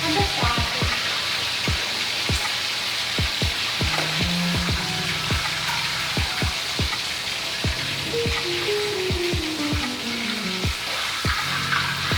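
Steady sizzling of chicken frying in hot oil, with sharp clacks and scrapes of a utensil stirring the pan throughout.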